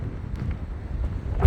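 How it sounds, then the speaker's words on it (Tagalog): Strong gusty wind buffets the microphone outdoors during a walk to a supermarket, a close, rumbling low roar rising and falling with a heavier gust at the end. "Lakas ng hangin mga kadahon."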